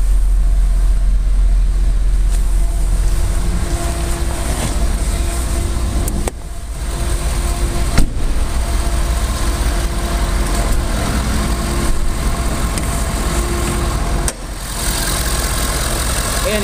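A 2012 Ford F-250 Lariat with a 6.7 liter diesel engine idles steadily, a smooth low rumble holding constant throughout with a few brief knocks and shifts in level.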